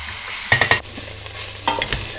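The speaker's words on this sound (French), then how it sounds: "Alors là, il faut vraiment bien remuer." Arabic rice being stirred as it fries in a saucepan: a quick burst of three or four scraping strokes, then a couple more later, over a steady low sizzle, close and fairly loud with no talk.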